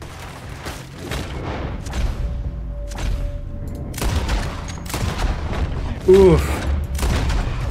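Gunfire in Red Dead Redemption 2 as repeated broadband bursts through a street firefight, several sharp cracks spread across the clip. One punchier hit comes near the end. Voices call out in between the shots.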